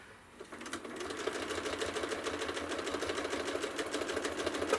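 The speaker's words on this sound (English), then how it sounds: "Hold these threads out of the way until I stitch a bit." A sewing machine stitches tiny stitches on a quilt in a steady, fast rhythmic whir that starts after a brief pause and runs continuously, close by, with no talking.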